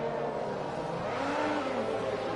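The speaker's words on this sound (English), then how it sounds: "Revving the car, trying to get temperature into his rear tyres." Race car engine revving in the F1 2021 video game at Mexico, held at a steady high drone with a rising pitch sweep midway, continuous and moderately loud throughout.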